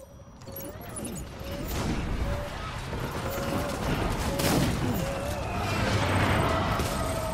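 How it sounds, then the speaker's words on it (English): Gunfire in a warzone boss fight in the video game Death Stranding: a dense, continuous roar of shooting and mechanical clatter with a few sharper bursts, loud and sustained throughout. "Who's shooting at us,"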